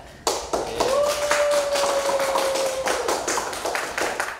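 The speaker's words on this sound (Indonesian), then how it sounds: "Tepuk tangan." Small-audience clapping during a podcast recording, distinct, rapid claps in an even rhythm, fairly close and clear, with a brief sustained tone sounding partway through.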